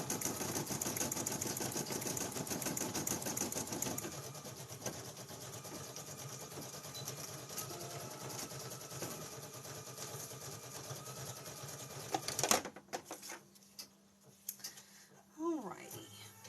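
A home embroidery machine stitches a Minnie Mouse feltie design, giving a steady, fast mechanical whirring hum for about twelve seconds before stopping abruptly, followed by a few quieter clicks and handling sounds.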